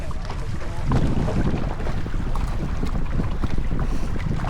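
Log flume boat ride on Wild Waterval at Avonturenpark Hellendoorn, with loud, continuous rushing water and wind buffeting close to the microphone and no clear talk.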